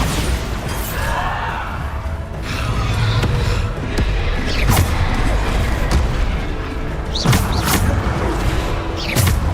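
Bombarda explosion spells in Hogwarts Legacy on PS5, sharp blasts and booms striking at irregular intervals amid combat noise, loud and close with no speech.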